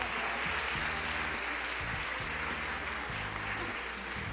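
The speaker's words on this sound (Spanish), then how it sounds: "¿Por qué no le damos un fuerte aplauso a nuestra amada pastora?" An audience applauding at an international women's leadership forum in Mexico, sustained dense clapping that fills the room at moderate distance without pause.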